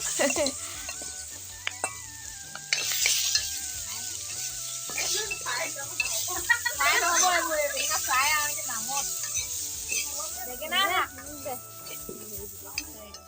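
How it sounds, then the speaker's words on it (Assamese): Small eggplants fry in a smoking pan, giving a loud hiss and sizzle, with a utensil scraping and stirring. A person talks over the cooking. "বেঙেনা ফ্ৰাই হৈ আছে আমাৰ, ধোঁৱা পুৰা সৰু সৰু বেঙেনা ফ্ৰাই কৰি আছোঁ।"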